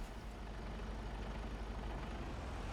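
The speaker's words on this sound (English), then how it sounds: "Engine on." A lorry engine idles in Farming Simulator 25, a steady, dense low rumble with even broadband noise, continuous and fairly close, without speech.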